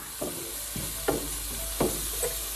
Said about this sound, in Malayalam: ആ സമയം ഞാൻ ഇതിലേക്ക് അല്പം മഞ്ഞൾപ്പൊടിയും കൂടെ ഇട്ട് കൊടുക്കുകയാണ്. അതിനുശേഷം ഇത് ഒന്ന് ഇളക്കി കൊടുക്കുക.